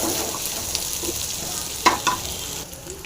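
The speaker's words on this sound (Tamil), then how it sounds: "இது எல்லாம் வந்து நல்லா ஃப்ரை ஆகட்டும்" Onions and chilli fry in a pan for a snake gourd stir-fry, giving a constant close sizzle with a couple of sharp spatula clicks near the end.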